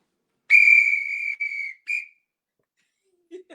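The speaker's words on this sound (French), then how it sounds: "Hein, tu viens avec ton sifflet." A whistle blows loud and close: one long sustained blast, then a short second blast and a brief third toot, followed by quiet with a faint trailing sound.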